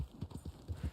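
A horse's hooves clip-clopping in Red Dead Online, a quick uneven run of soft thudding steps on the ground, close but fairly quiet, with no speech.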